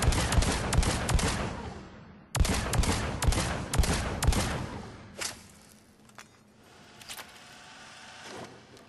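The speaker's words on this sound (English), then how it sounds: "mid to long range with a scope with the Phalanx pistol." Phalanx pistol shots fired through a scope during target practice in Mass Effect 3 crack out in quick, evenly spaced runs, then thin to a few scattered, fainter shots over a quiet background.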